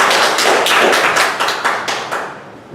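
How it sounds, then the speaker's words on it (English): Audience applause at a meeting: a few seconds of dense, fairly close clapping with uneven rhythmic surges that thin out and fade toward the end. "So give him a big round of applause."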